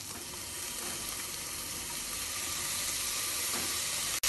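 Chopped tomato sautéing in a pan, giving a continuous close, even sizzle that swells slightly over a few seconds, ending with a brief click, no voices.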